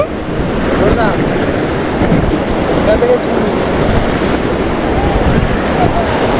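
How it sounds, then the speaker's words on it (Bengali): Large waves crash and roll in continuously, a loud, dense wash of surf with wind buffeting the microphone throughout, steady with no pauses. "আবার বড় বড় ঢেউ আসছে।"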